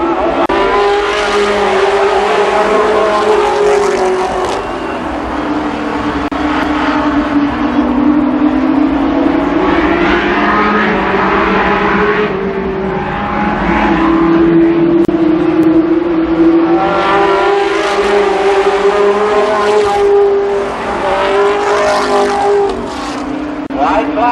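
Race cars roar continuously around the Columbus Motor Speedway oval, loud and near, engine pitch rising and falling as the pack passes, with an announcer talking over the noise throughout.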